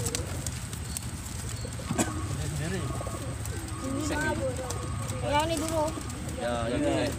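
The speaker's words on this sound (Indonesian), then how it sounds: "Wah, ini banyak burungnya, teman-teman." Kolong pigeons coo at a busy pigeon training field in Samarinda, Kalimantan Timur, with several overlapping calls above a steady hum of crowd noise while people talk nearby.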